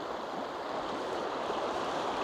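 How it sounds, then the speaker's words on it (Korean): Steady broadband rush of a flowing river beside a campsite, continuous and fairly close, with no voices or other distinct sounds. "들리시나요 물소리? 물소리가 아주 적당히 들려"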